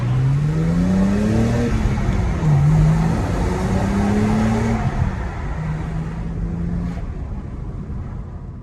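2007 BMW E92 330i with a manual gearbox, its engine revving up through shifts in a few rising pulls, loud and close, then easing off to a steady, quieter drone.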